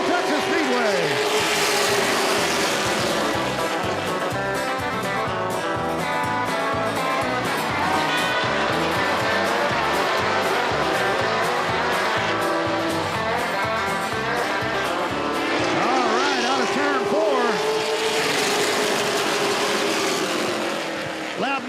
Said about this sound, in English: Here we go, green flag in hand. Let's go racing at Central Texas Speedway.